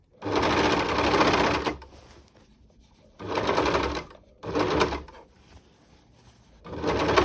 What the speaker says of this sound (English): I can go on the inside and just overlock these seams to get rid of any of the fraying